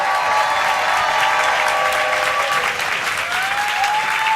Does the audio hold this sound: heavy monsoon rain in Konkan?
no